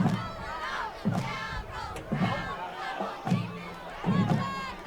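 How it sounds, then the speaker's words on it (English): Spectators at a Friday-night high school football game, Howe Bulldogs at Caddo Mills Foxes, send up a loud rolling crowd roar that surges in several swells across the clip, with shouts mixed in. "Pretty good crowd."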